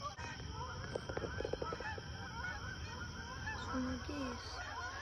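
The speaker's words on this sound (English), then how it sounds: "Some geese flying by, they're just too low, they're going into the water." Geese honk in a loose burst of calls passing low overhead toward a river, outdoors with steady background noise and a couple of lower honks near the end.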